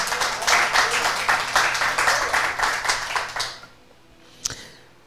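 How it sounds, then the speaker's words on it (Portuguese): Congregation applauding in a church service, a dense, loud wash of clapping for about three and a half seconds that cuts off abruptly, followed by near quiet and a single sharp knock. "Você pode aplaudir ao Senhor?"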